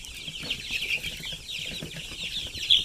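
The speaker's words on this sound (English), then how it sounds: "these are sexling chickens right here" Sex-link and Delaware chickens cluck on grass, a steady chorus of soft, overlapping calls from several birds close by, with no voices over them.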